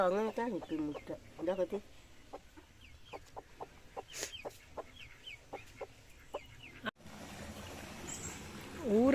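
Hens cluck in short, quiet bursts at a home coop with chicks and eggs, a person talking softly among them and a louder call at the end.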